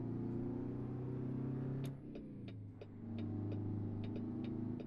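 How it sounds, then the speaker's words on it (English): A heavy Diamond Reo Royale truck engine in American Truck Simulator drones with a deep steady hum beneath a bridge, dipping briefly then rising again, with a few faint clicks over the rumble. "Just listen to that truck underneath the bridge though"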